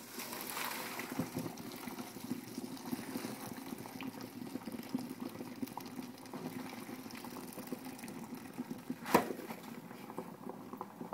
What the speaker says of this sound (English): we're going to pour the pasta into the strainer to get all the water out